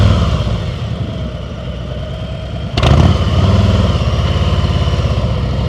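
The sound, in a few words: motorcycle engine during slow speed riding practice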